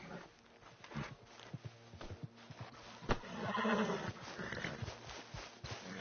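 A horse in the western video game Red Dead Redemption 2 neighs and whinnies at moderate distance, mixed with scattered clip-clopping hooves and faint background activity over six seconds.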